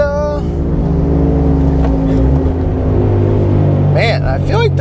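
A turbocharged Subaru BRZ with a screamer pipe exhaust: a loud, droning engine tone holds steady, then shifts pitch as the throttle is blipped near the end, with sharp whooshing turbo flutter.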